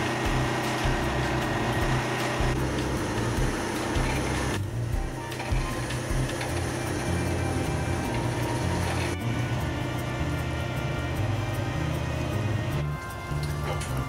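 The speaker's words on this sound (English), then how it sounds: "One man to operate the winch, and the other to guide the fuel polishing skid down the offload ramp" A fuel polishing skid is winched down the offload ramp of an enclosed trailer, giving a steady mechanical whirring and ratcheting with a low motor hum that runs continuously at close range.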